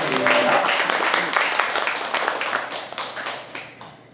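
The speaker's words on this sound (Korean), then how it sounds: "박수 한번 부탁드리겠습니다." An indoor audience at the launch ceremony of a basic income movement's Gunsan chapter claps in a warm burst of applause that thins and fades over a few seconds.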